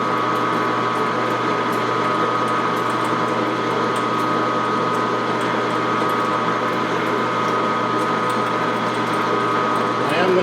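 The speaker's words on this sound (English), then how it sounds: "Going to start out with a 17/64 common drill" A 17/64 common drill bit sinks deep into metal for a TIG diffuser tool, probably turning on a lathe, giving a steady, continuous machining whine and hum with even loudness and no talk.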